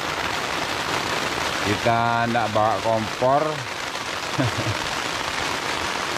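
Heavy rain pours on the rocks during a fishing trip, a steady loud hiss throughout, while someone talks briefly in the middle.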